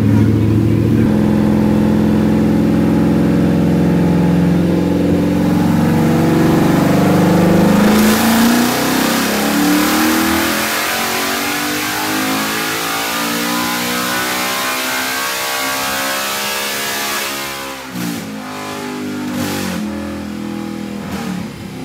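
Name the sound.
car engine revving on a dyno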